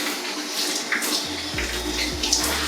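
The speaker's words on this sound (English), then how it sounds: "Now I'm gonna add a little bit of water." Water runs and splashes while being added to curly hair, a steady close hiss with a low gurgling undertone that builds partway through.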